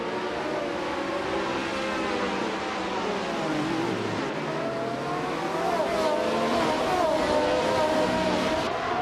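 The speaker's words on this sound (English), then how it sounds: "Bot Kreisgoffer takes the lead right from the start. Maintains a strong position" Race cars at the start of a video game race roar together, a dense layered engine whine with pitches rising and falling as several cars accelerate, loud and continuous.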